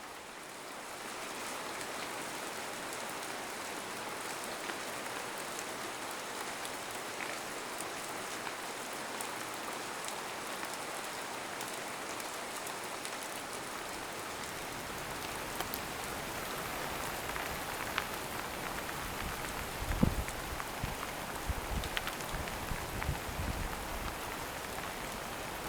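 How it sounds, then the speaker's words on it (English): Steady rain falling in an organic vegetable garden near a wildlife pond: a continuous soft hiss of drops on foliage and surfaces, growing slightly denser later, with a few closer splashes and taps toward the end. "All I had to do now was wait for the last bit of rain before the drought."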